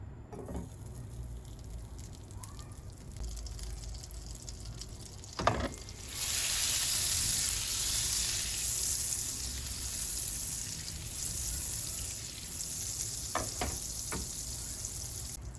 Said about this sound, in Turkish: Tavamızın içerisine dolu dolu bir yemek kaşığı tereyağımızı alıyoruz.